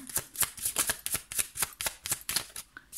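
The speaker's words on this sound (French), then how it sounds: "Je vais prendre 3 autres cartes pour finir ce tirage que je trouve intéressant" Tarot cards are shuffled by hand, making a rapid series of crisp, papery riffles and slaps in an uneven rhythm, close and fairly quiet, with no talk.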